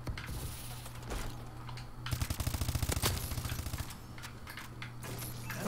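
Video game gunfire erupts as a quick burst of rapid shots in the middle of the clip, rising above a steady bed of game noise, with no speech.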